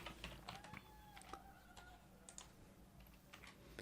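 Keys on a computer keyboard are tapped in a short, quiet run of irregular clicks as a command is typed in the R software, with faint background noise and little else.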